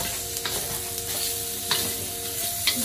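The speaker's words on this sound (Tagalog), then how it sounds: "Doon po sa kabila ay nag-prito ng tofu." Tofu fries in hot oil in a pan, a steady close sizzle with a few sharper crackles and stirring scrapes, no talking.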